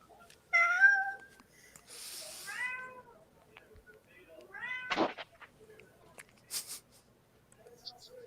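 A house cat meows three or four times in short, clear, fairly close calls, with small rustles and quiet gaps between them.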